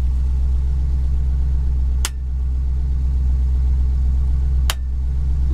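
Car engine idling steadily with a low, even rumble, loud and close, broken by two sharp clicks of a switch being flipped a few seconds apart, no talking.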